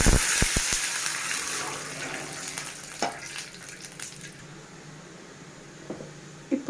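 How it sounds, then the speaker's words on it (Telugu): A glass of water poured into a cooking pan with chana dal and green chillies for upma: a brief clunk, then a steady close rush and hiss of liquid that gradually softens. "ఇప్పుడు 1 గ్లాస్ వాటర్."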